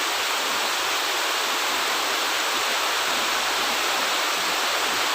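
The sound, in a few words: heavy rain falling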